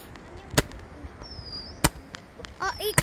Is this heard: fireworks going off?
yes